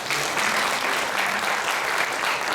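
Church congregation clapping loudly during a Sunday worship service, a dense, steady round of applause filling the room without pause.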